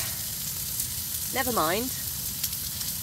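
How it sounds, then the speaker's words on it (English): Steak frying in a pan inside a hot tent, a steady broad sizzle near and constant, with a short spoken remark over it partway through. "So just quickly while the steak is frying."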